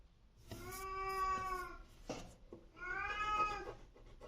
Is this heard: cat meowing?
yes